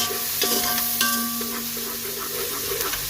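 Steady sizzling of garlic browning in a hot pan, with occasional stirring scrapes, close and continuous with no talking.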